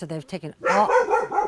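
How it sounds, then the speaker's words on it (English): A dog barks sharply at someone arriving at a ranch, several quick loud barks in a burst, closely following a man's brief speech. "my dog telling me that someone's here at the ranch."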